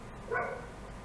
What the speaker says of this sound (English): You just have to ignore that dog.